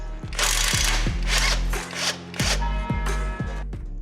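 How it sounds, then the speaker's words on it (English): Ratcheting and wrenching sounds from a 16mm socket loosening the ball joint nut on a Citroen C3 during tie rod replacement: a steady mechanical whir broken by a series of sharp clicks and knocks, close and fairly loud with no talk. "Use a 16mm socket to remove the ball joint nut"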